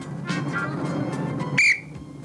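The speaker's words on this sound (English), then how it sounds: "Here comes the whistle." A single short, shrill referee whistle blast cuts through a murmur of background noise near the end.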